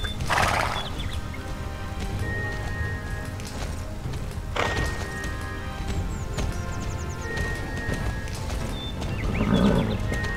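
A horse in a Star Stable video game race gallops with hoofbeats, giving brief whinnies near the start and middle, and a steady game soundscape runs underneath.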